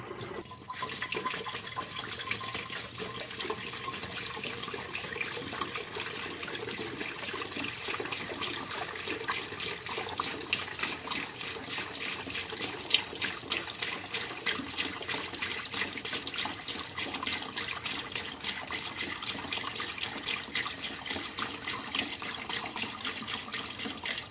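Plain water pours steadily into the cooling system of a Ford F-150 with a 4.6L engine and 285K miles, giving a continuous soft gurgling trickle that runs unbroken and fairly quiet with no talking.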